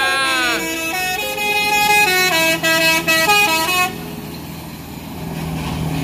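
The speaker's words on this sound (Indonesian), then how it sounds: "Medium bus tapi teloletnya big bus." A loud multi-tone telolet musical horn on a medium bus plays a rising, stepped melody close by at a Palembang bus terminal, then cuts off, leaving engine rumble and faint voices.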